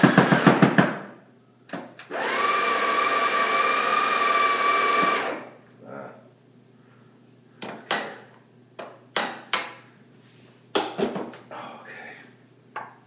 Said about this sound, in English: That was the sound of the grinder.